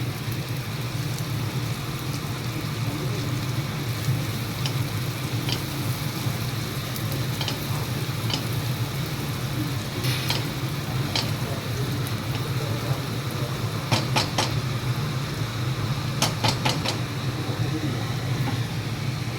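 Curry leaves sizzle in hot oil while making a cashew gathiya curry, a steady, fairly loud frying hiss that runs without a break, with a few brighter crackling bursts near the end.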